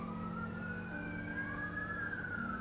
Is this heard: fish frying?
no